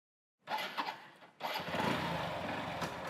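A scooter engine starts up after a moment of silence, sputters briefly, then catches and settles into a steady, close, buzzing idle.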